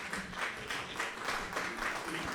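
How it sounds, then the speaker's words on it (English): Women clap at an open mic poetry event, a sustained round of applause from a small audience rising and falling in gentle waves, moderately loud and unbroken. "You can see the women clapping"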